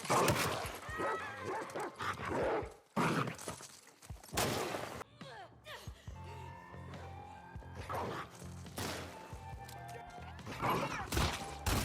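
A dog attacks in The Last of Us Part II, with repeated loud barks, snarls and whimpers in bursts over about twelve seconds, mixed with scuffling, footsteps and other game sounds, with no voices.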